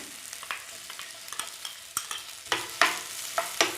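Ripe banana pieces frying in a tablespoon of ghee in a pan, a soft steady sizzle broken by repeated scraping stirs that grow louder and more frequent toward the end, close and without talk.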